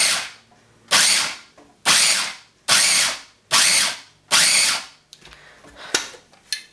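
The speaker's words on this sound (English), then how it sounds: "I'm gonna be using the chop button and pulse it like 5 times." Five loud, close bursts from a food processor on its chop setting pulse corn in even, evenly spaced whirs, each cutting off sharply, followed by a few lighter clunks and rattles.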